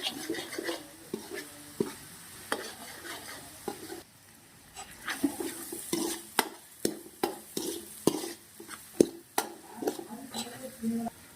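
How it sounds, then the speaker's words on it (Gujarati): Capsicum and onion roasting in a pan, a quiet sizzle under repeated sharp scrapes and clinks of a spoon stirring against the metal. "શિમલા મરચું નાખીશું મરચાં પણ મસ્ત મજાનું શેકી લેવાનું છે"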